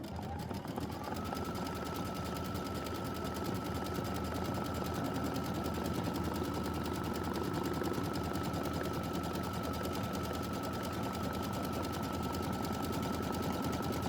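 Sewing machine stitching a quilt block for a Kimberbell Wallflower mystery quilt, a loud, fast, even whir that runs on without a break.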